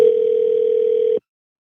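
A telephone dial tone plays while a call is placed. A loud, steady, unbroken hum holds for just over a second and then cuts off abruptly into silence.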